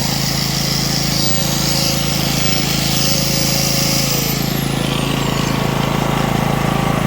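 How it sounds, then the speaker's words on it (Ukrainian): A small Kraft&Dele KD160 gasoline generator engine runs steadily at constant speed, a loud continuous mechanical drone with no voices. "Двигун стабільно працює, оберти стабільні."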